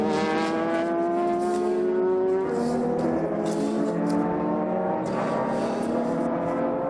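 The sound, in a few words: Super GT race cars battling on track at Motegi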